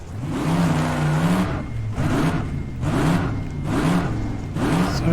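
A race car in rFactor 2 accelerates and brakes repeatedly, its engine loudly rising and falling in pitch in steady surging cycles with no pauses.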